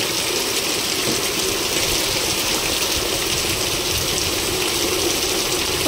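Heavy rain pours during a windstorm in a constant, loud roaring wash with no breaks or voices.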